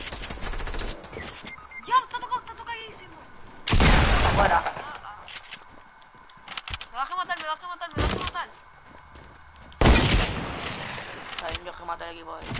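Shotgun and pistol gunfire in a shooter video game, with sharp loud bursts and scattered single shots among quieter stretches of game sounds, while players talk over it.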